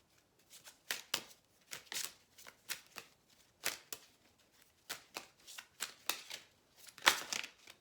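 Tarot cards being shuffled by hand in quick, uneven bursts of crisp riffling and slapping, close and fairly quiet, with no voice.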